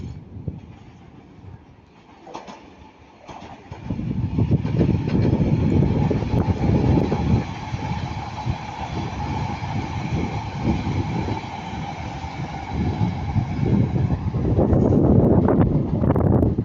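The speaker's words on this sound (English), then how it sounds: "here comes the Avanti West Coast Pendolino" An Avanti West Coast Pendolino train passes at Ardwick, a loud sustained rumble and rush of wheels and air building after a few quiet seconds and holding steady close by, with wind buffeting the microphone.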